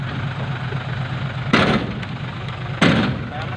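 A tractor engine runs with a steady low idling rumble throughout, broken by two sharp loud bursts of broadband noise partway through; no one speaks.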